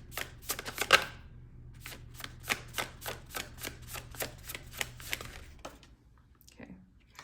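Tarot cards being shuffled by hand in a rapid series of crisp riffling snaps and taps, close and fairly quiet, over a low steady hum, tapering off near the end.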